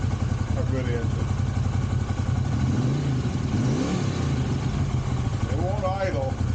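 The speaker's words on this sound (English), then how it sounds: "When you can get them to idle down like that, you know you've got good vacuum" A Honda CX500 motorcycle engine idles low and steady throughout, with a continuous rumble and brief rises in pitch, while someone talks over it.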